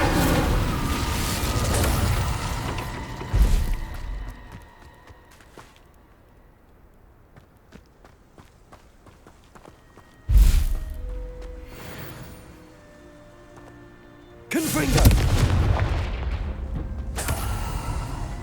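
Fire and blasting spells in Hogwarts Legacy erupt in several heavy booming explosions with noisy bursts, separated by quieter stretches of lighter rumble and footsteps, with no speech.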